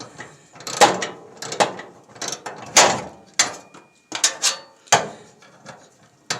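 Ratchet with a small 1/4 inch socket tightening a part on a gas dryer, giving short bursts of clicking spaced irregularly, close and fairly loud, with quiet gaps between strokes.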